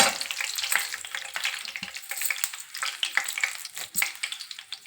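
Urad dal, chana dal and spices fry in hot oil, giving a steady bright sizzle with crackling pops and occasional spoon scrapes against the pan, close and continuous with no talking.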